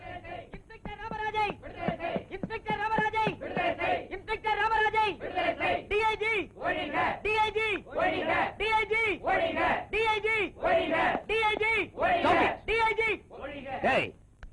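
A film crowd shouts protest slogans in unison, loud rhythmic bursts of massed voices repeating one chant over and over with short gaps between each cry.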